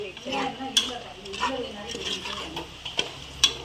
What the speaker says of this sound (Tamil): தயிர் சேர்த்து நல்லா கிண்டிட்டோம்